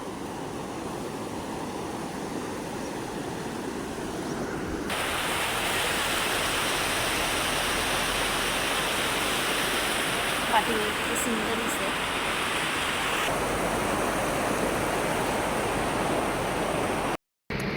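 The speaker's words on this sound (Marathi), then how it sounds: "झुळझुळणारं पाणी" Muddy water murmurs steadily through a village stream, a continuous broadband rush that grows louder after a few seconds and holds close and even, with no voices heard.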